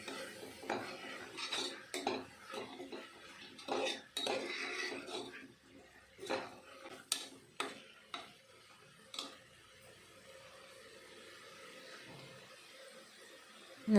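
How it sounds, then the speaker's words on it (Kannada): Tomatoes frying in oil in a pan for tomato biryani, stirred with a utensil that scrapes and clinks against the metal in irregular bursts, with a faint sizzle underneath and a quieter pause near the end. "ಟೊಮೊಟೊನ ತಿರುಗಿಸ್ಕೊಂಡು ಎಣ್ಣೆಲಿ ಚೆನ್ನಾಗಿ ಫ್ರೈ ಮಾಡ್ಕೊಬೇಕು"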